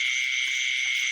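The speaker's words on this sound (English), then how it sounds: "more cricket" Crickets chirp at night in a steady, continuous high trill, loud and close, with no voices.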